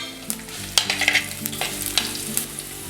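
Garlic cloves, chopped ginger and kudampuli sauté in a pan for a Kottayam-style Kerala fish curry, crackling and sizzling as a spoon clinks and scrapes in several sharp strokes.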